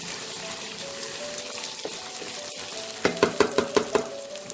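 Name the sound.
tomatoes being stirred and fried in a pan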